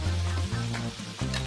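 Onions frying in a pan, a steady sizzle running under low hums and clattering tones, fairly quiet and continuous with no talking.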